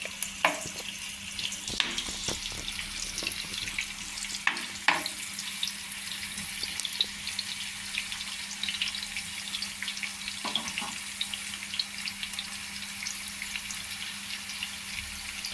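Onions frying in hot oil for a home-style masala vankaya (stuffed eggplant curry), a steady hiss with scattered crackles and occasional clatter of a utensil, fairly quiet and continuous throughout, no talking.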